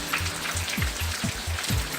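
Rain falling in Florianopolis, Brazil, a steady broadband patter with scattered drop hits over low rumbling tones, fairly close and continuous without talk.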